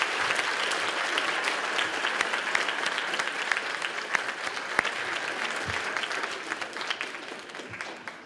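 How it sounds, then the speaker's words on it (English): An audience at the 2019 Coming of Age Spirit of Service award show breaks into dense, steady applause that holds for several seconds and then tapers off toward the end. "A round of applause."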